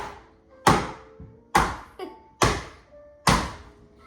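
A heavy pan pounds pork tenderloin flat on a counter: five loud, evenly spaced thuds roughly a second apart, close and resonant, with a small clink between blows.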